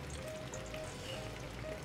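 Fat renders and sizzles in a pan while carbonara is prepared, a steady close crackling fry that carries on without pause and with no talking.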